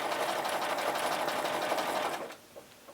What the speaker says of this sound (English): I'm just doing a few stitches, about a 1/4 inch